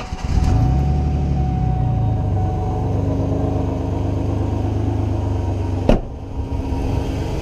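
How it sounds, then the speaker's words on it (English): A car with a good battery cranks briefly and its engine catches, then settles into a steady, loud idle close by, broken by a single sharp knock near the end. "All right, now we'll go to the good car"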